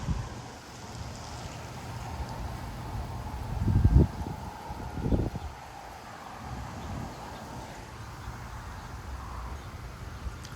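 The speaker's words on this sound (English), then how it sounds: "these gotta be like 50-mile-an-hour winds" Strong wind gusts of around 50 mph in Frisco, Texas, blowing through trees, a steady rushing roar with a couple of heavier buffeting blasts hitting the microphone partway through.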